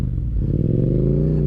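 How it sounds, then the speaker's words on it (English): A Yamaha motorcycle exhaust revs up close and loud, a deep throbbing engine note climbing steadily in pitch over a second and a half, with no voices. "Just listen to this exhaust."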